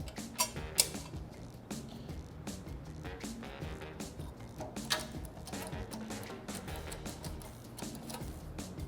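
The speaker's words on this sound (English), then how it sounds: "Place the secondary chain over the rear drive gear." A bicycle-type secondary chain being fitted over the rear drive gear of a Schwinn tricycle gives close, irregular metallic clicks, ticks and light rattles, with a few sharper clanks scattered through.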